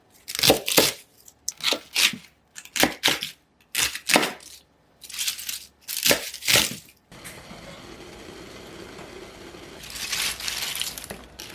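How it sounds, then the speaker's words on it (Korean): Washed cabbage chopped roughly with a knife on a board: a run of sharp, crisp crunching cuts in quick bursts, close and loud, followed by a softer scraping rustle as the pieces are pushed aside. "씻어놓은 양배추는 대강 썰어주세요"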